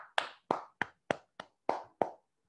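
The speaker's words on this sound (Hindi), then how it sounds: "एक बार कलेक्टिवली इन सभी 17 लोगों के लिए एक जबरदस्त और शानदार तालियां" Seven separate hand claps in a slow, even rhythm, close and fairly quiet, greeting a group of 17 people at an online gathering; no one speaks.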